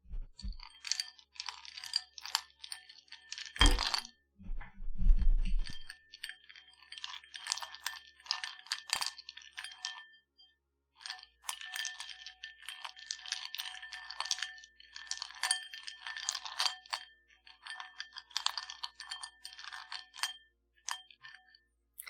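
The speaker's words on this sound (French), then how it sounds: "j'ai un petit faible pour les glaçons qui s'entrechoquent" Ice cubes clinking together near a close microphone in a quiet room, bursts of bright clinks and rattles with a few short pauses and one brief heavier knock, no voices.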